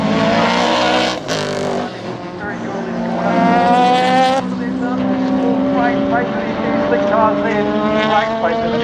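Sports sedan race cars, including a Toyota Lexus, scream side by side at Baskerville circuit, loud engines rising and shifting together with a brief sharp burst, heard without voices.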